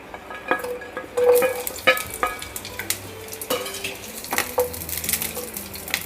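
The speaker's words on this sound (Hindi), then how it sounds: "हमारा ऑयल जब गर्म हो जाएगा तब इसमें मैंने एक प्याज, जिसको ऐसे चंक्स में मैंने काट लिया था, वो इसमें ऐड करेंगे हम।" Chopped onion chunks hit hot oil in a frying pan, sizzling loudly up close with repeated spatula stirs and scraping clinks against the pan in an irregular rhythm, no one talking.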